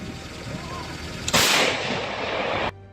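A single heavy artillery blast erupts suddenly during combat in the war in Ukraine, loud and close, its roar sustained for about a second before cutting off.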